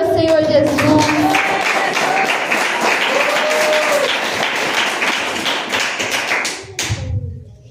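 A church congregation clapping in praise, loud rhythmic hand claps sustained for several seconds under a tonal voice or music, ending with a thud.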